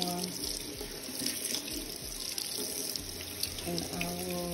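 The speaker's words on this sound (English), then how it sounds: "I am going to turn on the water and let it get warm" Water runs from a tap into a sink in a steady, continuous splashing stream, close by, with a faint low hum underneath.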